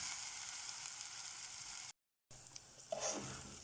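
Chopped onion frying in oil and ghee in a pot, a steady close sizzle that cuts out briefly and then resumes with some stirring.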